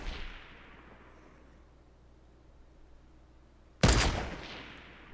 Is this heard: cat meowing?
no